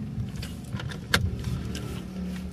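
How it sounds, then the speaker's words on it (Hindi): Someone trying to open a locked car: a few clicks and mechanical clunks of the handle and lock over low engine-like rumble, with one sharper rattle in the middle, heard up close. "गाड़ी क्यों नहीं खुल रही?"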